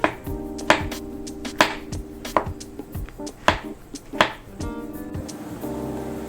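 A knife chops steadily on a chopping board at a campsite, about eight crisp, evenly spaced strikes, close and clear with no talking.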